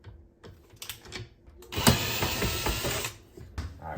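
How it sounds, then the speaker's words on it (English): A Phillips head bit on a power driver backs out the screws holding a dishwasher's mounting brackets, giving short bursts of mechanical whirring and clicking, close and fairly loud, with brief pauses between. "we're going to go ahead and unscrew these with our Phillips head bit"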